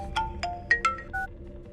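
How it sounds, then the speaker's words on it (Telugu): A mobile phone rings with a bright melodic ringtone, a few short chiming notes rising and falling in quick succession, close and clear with no talking. "ఇది ఫోన్ చేస్తుందేంటి?"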